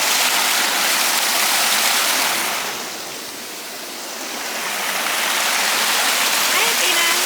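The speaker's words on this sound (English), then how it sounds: "We are near one of the waterfalls now." A waterfall on a hiking trail roars nearby as a steady broadband rush of falling water, dipping briefly in the middle before swelling back to full strength.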